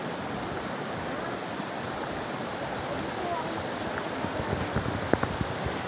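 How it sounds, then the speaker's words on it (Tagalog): Steady rushing of river current flowing near a campsite in Tanay, Rizal, a continuous broadband wash with no pauses, a few faint clicks toward the end. "Maririnig nyo lang yung agos ng ilog."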